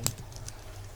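A few quick keystrokes on a computer keyboard while a terminal command is typed: one sharper click at the start, then lighter taps, faint and close.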